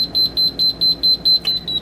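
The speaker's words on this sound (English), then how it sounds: "you heard an alarm was squeaking there. It means that that pump is activated." A boat's bilge pump alarm chirps in a steady rhythm of about eight short, high-pitched beeps at even intervals, fairly loud and alone with no talk.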